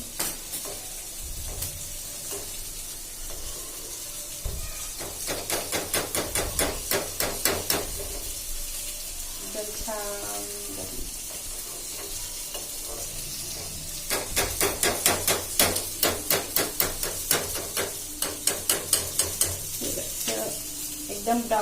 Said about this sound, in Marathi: आपण आता या ढोबळी मिरची पण टाकलेली आहे हे इकडे असे छान फ्राय होईपर्यंत